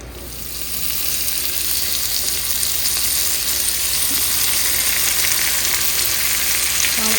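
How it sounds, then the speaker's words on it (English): Chanterelle mushrooms frying in a hot pan, a loud close sizzle that swells within the first second and then holds as a steady hiss and crackle, with no talking. "this is nice and hot, so I'm going to put those mushrooms in there."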